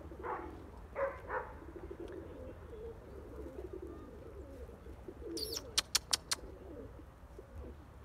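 Pigeons coo softly in a quiet loft setting, low repeated coos scattered through the clip, with a brief burst of sharp chirps or wing sounds near the end.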